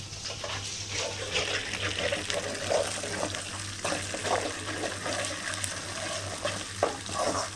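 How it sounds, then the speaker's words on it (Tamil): Ginger garlic paste and curry leaves sauté in hot oil, with a steady frying sizzle and the intermittent scrape of stirring. A low hum runs underneath throughout. "நல்லா இஞ்சி பூண்டு பேஸ்ட் நல்லா வதக்கணும்"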